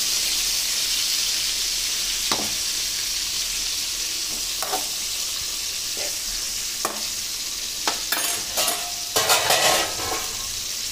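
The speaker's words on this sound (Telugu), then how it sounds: "మనం చట్నీకి కావాల్సిన టమాటాలు వేస్తామండి. టమాటాలు అయితే చాలా మగ్గిపోయినాయి." Tomatoes frying in a pan for chutney, with a constant loud sizzle and hiss, punctuated by scraping stirs of a spoon and clustered clatters near the end.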